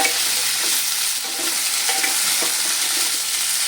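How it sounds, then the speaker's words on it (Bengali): Potatoes being stirred and fried in a pan for a Bengali vegetarian curry, a steady close sizzle with scraping stir strokes throughout, no talking. "আবারও আমি কিছুক্ষণ নেড়ে চেড়ে ভাজবো যতক্ষণ না আলুটা একটু লাল লাল হয়ে"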